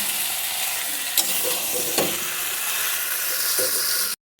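Chicken being stir-fried uncovered on low heat for a chicken kosha curry, a steady close sizzle with a few stirring scrapes and clinks, ending in a brief cut to silence.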